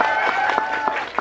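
A small group applauds in a brief burst of scattered, fairly close hand claps, with a crowd murmuring underneath.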